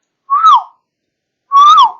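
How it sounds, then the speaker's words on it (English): A hand whistle blown twice near a sound detection sensor being tested: two loud, clear, slightly bending tones about a second apart, each lasting roughly half a second. "Now I use the whistle."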